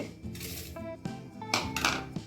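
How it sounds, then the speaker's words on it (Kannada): Cauliflower pieces are dropped into a metal pressure cooker, giving a few soft thuds and scattered metallic clinks and rattles, quiet and close. "ಇದನ್ನು ಫ್ಲವರ್ ಹಾಕ್ತೀವಿ"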